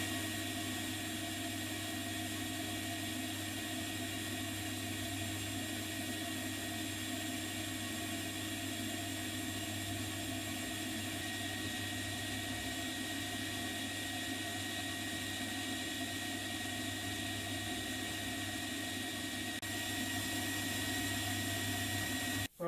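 A drill bores 10mm holes in a workshop, giving a continuous, steady motor whine with a strong even hum throughout, ending in a sharp click as it stops.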